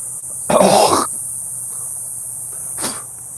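A continuous high-pitched insect drone, likely cicadas, fills the background outdoors, and two short harsh bursts, such as a cough or throat clearing, cut in over it.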